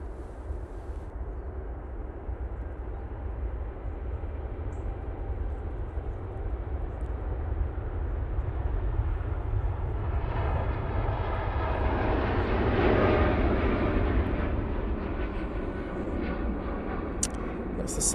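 A Qatar Airways airliner departing Manchester Airport for Doha roars steadily, its engine noise swelling louder toward the middle as it passes, then holding; a voice talks over it.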